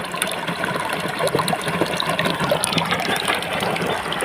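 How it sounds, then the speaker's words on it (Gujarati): Water with dissolved urea fertilizer flows and gushes steadily into a fennel field, like a stream pouring into a channel, continuous and fairly close, with no talking. "આવી રીતે ખાતર ઓગાળીને પાણી અંદર ચાલુ છે"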